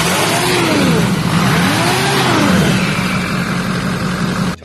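Old vehicle engine running steadily after an ether-assisted start on a rough Mexican road, loud and close with a wavering pitch as the revs rise and fall, cutting off abruptly at the end.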